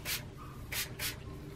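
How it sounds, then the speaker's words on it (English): Three short hissing bursts from a spray bottle of heat protectant onto wet curly hair, close by, with brief pauses between them over a faint low background hum. "just spray it all over while it's wet."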